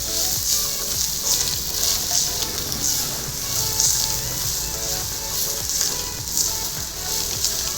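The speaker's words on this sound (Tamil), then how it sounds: "அந்த ரவையோட தேங்காய் பூவும் போட்டு நல்லா சுருள கிளறிக்குவோம்" Semolina and grated coconut are stirred in a hot pan for a sweet, sizzling steadily with a close, continuous crackle and soft scraping strokes of the spoon.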